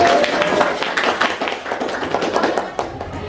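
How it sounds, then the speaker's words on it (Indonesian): Classmates clap for the first discussion group in a school classroom, a loud burst of uneven, close hand claps with a few thumps mixed in, and voices chattering over it. "tepuk tangan untuk kelompok satu"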